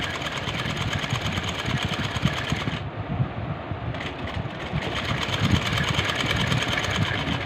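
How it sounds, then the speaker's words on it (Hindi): A sewing machine stitches along the piping of an angrakha-style frock, a close, steady rapid mechanical whirr and needle chatter that runs continuously, dipping slightly midway. "इस पाइपिंग के ऊपर सिलाई लगाएंगे।"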